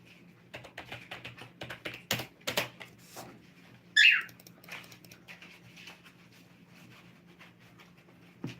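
Keys tapped on a computer keyboard in short, uneven bursts of quiet clicks, then a pause and a few more scattered taps, with one brief high chirp partway through.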